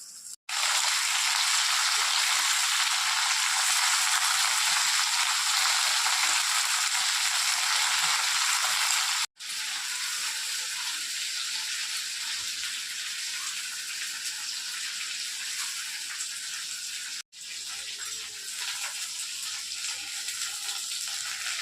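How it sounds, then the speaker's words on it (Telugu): Red chillies and curry leaves fry in oil in a pan, producing a loud, dense, continuous sizzle that stays close and steady, cut by two brief pauses. "మిరపకాయలు వేయించాలి దాంట్లోనే కొంచెం కరివేపాకు వేసేసేయాలి"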